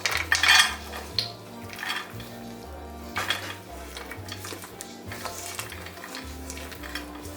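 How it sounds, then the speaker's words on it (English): Greasing a casserole dish with Crisco shortening produces soft scraping and occasional light clinks against the dish, fairly quiet beneath a steady musical background. "I grease my casserole dish with Crisco."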